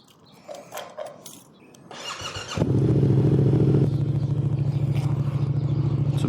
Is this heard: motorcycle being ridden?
yes